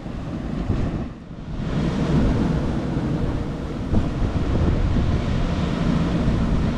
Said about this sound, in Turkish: Rüzgar var mı sıkıntı değil.